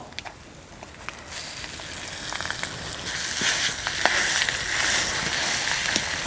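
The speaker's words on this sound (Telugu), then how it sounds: "ఇప్పుడు రోటి పచ్చడి తాలింపులో వేసుకొని" Ponnaganti leaf roti pachadi being stirred into a hot tempering of urad dal, mustard seeds, cumin, asafoetida, dried red chilies and curry leaves: a steady, close sizzle that swells louder partway through, with light scraping stirs.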